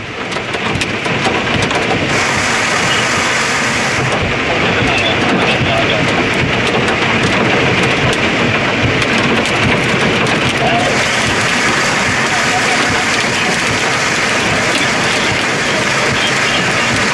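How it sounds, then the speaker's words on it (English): A heavy hailstorm with strong winds and pouring rain in Duncan, Oklahoma, makes a loud, dense, unbroken roar that stays steady throughout, with no voices. "The hail's getting bigger here."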